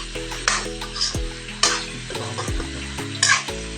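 Potatoes fry in a pan with a continuous sizzle, broken by a few distinct spatula scrapes and knocks against the pan during a short burst of stirring.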